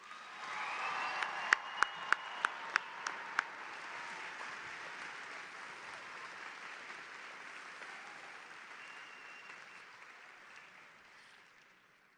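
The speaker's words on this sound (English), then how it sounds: "let's give our graduates one final round of applause" Sustained applause from a large crowd in a big hall at a university commencement ceremony, swelling early and slowly tapering off, with a few sharp claps standing out near the start.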